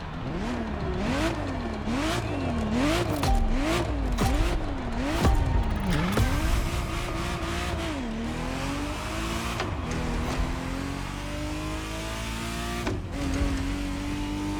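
A Ferrari Testarossa drives in the racing game The Crew Motorfest. Its engine revs up and down in rapid, repeated sweeps, then shifts gears and holds a loud, steady drone, with brief squeals and clicks throughout and no talk.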